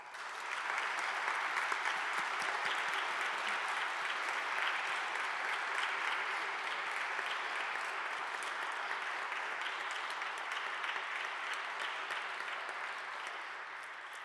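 Sustained applause from a large audience at an honors convocation, steady and loud for the full length, tapering slightly at the end.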